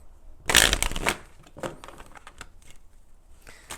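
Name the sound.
tarot cards being shuffled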